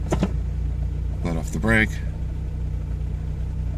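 A 1987 Toyota 4Runner engine idles with a misfire, a steady low rumble with an uneven pulse running throughout, as someone speaks briefly over it.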